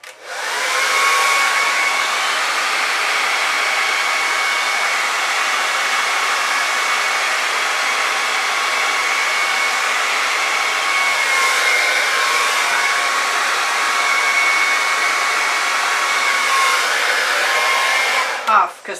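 A hair dryer blows steadily on fluid acrylic paint in a contemporary art painting, a loud continuous whoosh lasting nearly twenty seconds before it switches off at the end.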